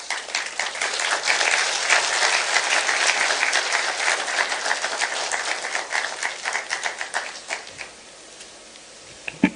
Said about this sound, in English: Another round of applause for Madam Ahuna.